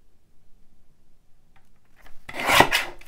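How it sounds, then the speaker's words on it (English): Scissors trim the edge of a collaged journal card: after near silence comes a brief, close, rasping cut lasting under a second. "I might as well trim that end while I'm here"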